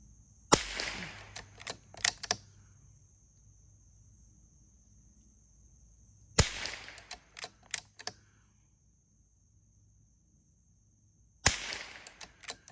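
Three sharp, distant-sounding rifle shots spaced several seconds apart from a Vudoo 360 rimfire rifle firing Eley match ammunition, each crack trailing a short echo over a quiet background with a steady insect-like whine.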